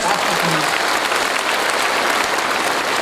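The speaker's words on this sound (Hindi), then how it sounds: "एक बार जोरदार ताली के लिए" Loud, dense applause from an audience at a business testimony event, continuous and even throughout with no pause.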